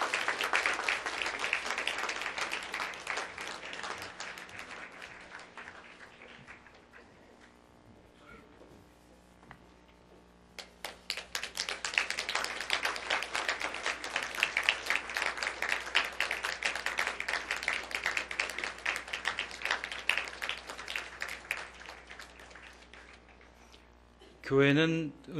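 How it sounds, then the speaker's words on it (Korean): A church congregation claps warmly for retiring elders receiving plaques, with two long stretches of dense, steady applause separated by a quieter pause, heard indoors at moderate distance. "세 분이 인사하실 때 뜨거운 박수로 축하하시기 바랍니다"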